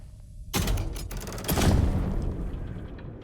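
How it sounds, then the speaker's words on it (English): Rapid bursts of gunfire in the video game Alan Wake II, a dense volley of sharp, booming shots starting abruptly and surging again midway, loud and close with no talk over it. "Nope, just lots of bullets."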